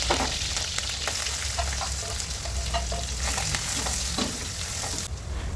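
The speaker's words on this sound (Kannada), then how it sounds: "ಆ ಥರನೇ ಇದು ಒಗ್ಗರಣೆ ಮಾಡ್ಕೊಂಬಿಡೋದು" Spices and onion sizzle and crackle in hot oil for a tempering, a steady, close frying hiss with scattered pops and occasional stirring, no voices.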